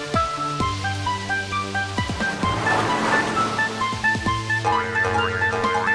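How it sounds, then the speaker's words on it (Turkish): Rough river waves slosh and surge against a rocking barge in a cartoon storm, a continuous churning wash of water under sustained musical tones, with no voices. "Nehir çok dalgalı. Dalgalar mavnayı sallıyor."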